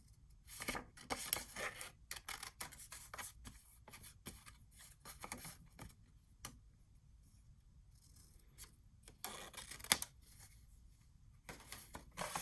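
Scissors snip through paper for a craft project, a quick run of close, crisp cuts and rustles with short pauses between bursts, and no voices.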